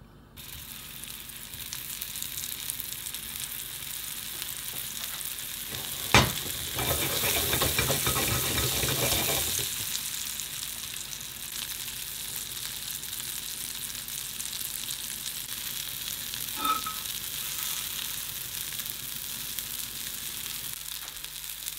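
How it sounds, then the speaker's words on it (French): Lentil patties fry in a hot pan with a steady crackling sizzle for the whole stretch, which swells briefly to a louder burst as they are turned, with a couple of sharp utensil taps. "On les cuit 5 minutes en les retournant comme ça, de chaque côté de temps en temps."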